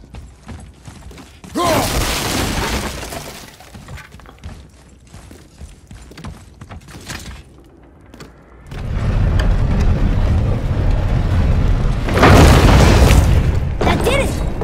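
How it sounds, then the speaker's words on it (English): Wooden crates smashed apart in God of War, heavy booming crunches in bursts amid game sound effects and mechanical clanks, loud and close. "You just destroy those boxes and see your luck."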